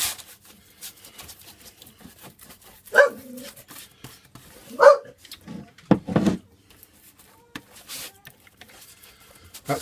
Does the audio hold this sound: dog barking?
yes